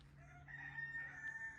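A rooster crows once, faint and somewhat distant, in an outdoor street setting in Milan, with no speech over it.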